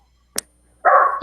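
A single short dog bark right up close, following a brief sharp click, in an otherwise quiet room.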